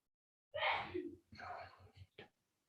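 A single sharp sneeze bursts out close by, followed by a few short breathy, voiced sounds trailing off.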